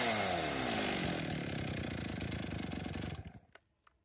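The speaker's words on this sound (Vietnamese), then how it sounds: "hôm nay thì chúng em thì có một con máy cưa hàng Trung Quốc xuất Nhật các bác nhá, nhập về" A Chinese-made chainsaw built for the Japanese market runs loud and close with a rough buzzing drone, then is cut off and dies away, followed by a couple of faint clicks.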